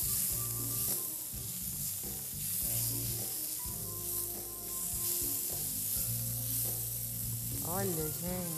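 Food sizzles and crackles steadily in a hot cooking pan as it is stirred, a continuous loud frying hiss with brief scraping movements throughout.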